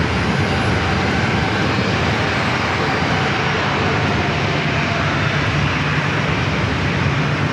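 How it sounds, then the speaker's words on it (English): A Boeing 737 Max 8 airliner bound for Phoenix rolls down runway 27 at San Diego airport on takeoff, a loud, steady broadband engine roar that holds without a break throughout. "Max 8 heading to Phoenix, now rolling down at runway 27."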